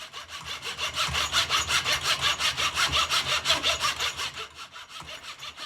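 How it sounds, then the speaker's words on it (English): Oak strapping cut square with a miter saw for a simple artwork frame: a fast, regular back-and-forth rasp of close, steady strokes that eases slightly toward the end. "I just use the miter saw to make a nice straight 90-degree cut"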